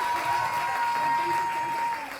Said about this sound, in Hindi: ये पंक्ति जिसने भी पढ़ी थी उसके लिए एक बार पुनः तालियां बजनी चाहिए पीछे तक